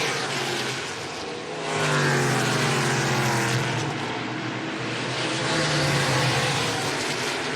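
ARCA Menards Series East race cars roar around the short oval at Toledo Speedway, loud and continuous, with engine pitch rising and falling as the pack sweeps past in successive waves.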